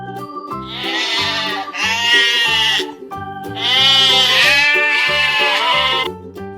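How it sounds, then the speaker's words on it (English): A goat bleats in several long, wavering calls with short pauses between them, loud and close, with no other sounds around. "Goat."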